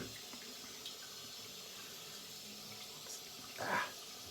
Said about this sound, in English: putting a lot of water in, and I'm lathering up